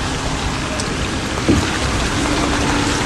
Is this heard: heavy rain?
yes